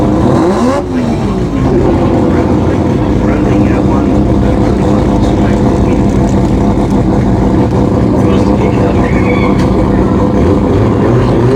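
Rotary-engined drag cars, a Mazda RX-7 and an RX3 sedan, roar loudly and continuously at a drag racing meet in Brisbane, with a dense, steady engine blare holding near full volume throughout and crowd or commentary noise beneath.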